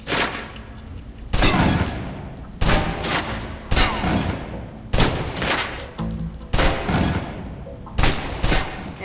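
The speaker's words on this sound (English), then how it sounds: "Now, let's move on to the submachine gun. Now let's empty the clip." Submachine gun bursts in the video game Alpha Protocol, fired at a target on a shooting range: about eight loud, sharp bursts separated by short pauses, each with a punchy low-end thump.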